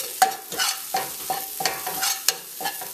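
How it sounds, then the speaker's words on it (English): Curry powder, a heaping tablespoon, being stirred and toasted in a pan over low heat, with a series of close, regular scrapes and taps of the utensil over a faint dry sizzle. "What we're doing here is pretty much toasting the curry so it releases all the ingredients"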